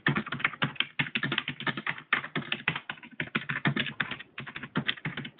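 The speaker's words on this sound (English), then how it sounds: "we can hear you typing frantically there." Rapid, frantic typing on a computer keyboard during a virtual classroom law debate, a dense run of close, crisp key clicks with only tiny pauses, heard alone with no talking.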